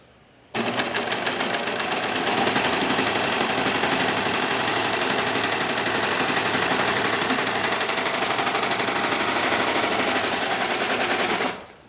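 A Baby Lock Evolution serger runs at high speed gathering fabric into a ruffle, a rapid mechanical chatter starting abruptly and holding steady and loud for about eleven seconds before stopping.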